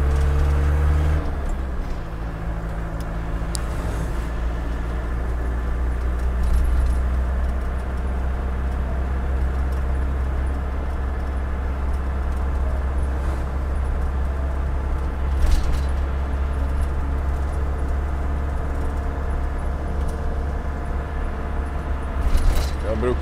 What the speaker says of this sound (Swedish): Och bilen, man hör att den är igång.